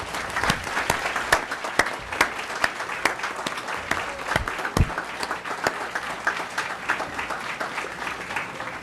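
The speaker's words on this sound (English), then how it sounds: "So let's all give one more big round of applause." Sustained audience applause at a school board meeting award recognition, a dense steady patter of many hands clapping with sharper individual claps standing out, moderately close, carrying on for several seconds.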